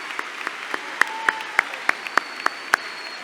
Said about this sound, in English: How about a round of applause for these dedicated individuals?